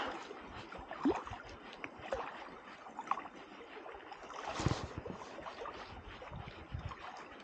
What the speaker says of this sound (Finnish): Niin paljon tuulee tosta sivutuulta.